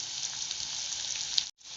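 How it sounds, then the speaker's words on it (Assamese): Sliced onion and split green chillies sizzle steadily in hot oil in a pan, a bright continuous crackling hiss that cuts off abruptly near the end, with no talking. "পিয়াজটো এনেদৰে ভাজি ল'ব লাগিব"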